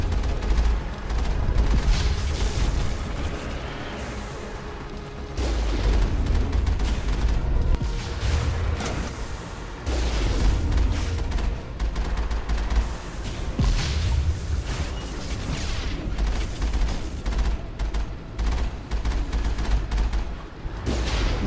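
Enemy weapons fire in the Mass Effect video game, a sustained barrage of loud, sharp shots and booming bursts that come in clustered volleys with brief lulls, continuing for about twenty seconds.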